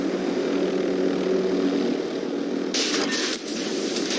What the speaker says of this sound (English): UAV overhead.